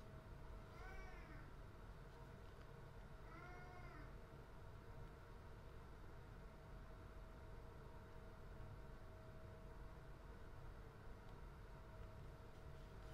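Two short, faint meows from a cat somewhere in the room, a few seconds apart, nearly buried under a constant hiss of background noise.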